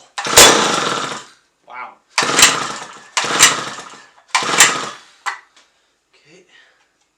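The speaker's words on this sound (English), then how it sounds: "See if we can't get it to fire and turn on an idle." A 1953 ice auger engine being started, which catches in four loud, close bursts of about a second each that sputter and die between tries, with a single short exclamation from a voice.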